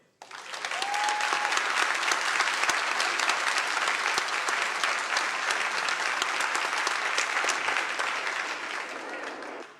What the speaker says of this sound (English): A big applause to Nick, please